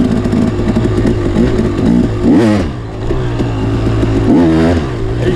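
Dirt bike fitted with a Rekluse Radius X clutch, its engine loud and close, chugging steadily then rising in two sharp revving bursts before settling back.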